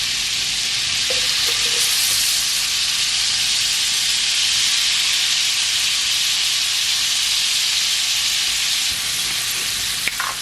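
Butter and minced garlic sizzle steadily in a hot pan, a loud, continuous close-up hiss that barely changes, with only a faint clink near the end.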